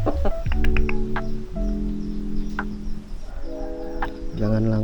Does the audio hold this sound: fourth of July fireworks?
no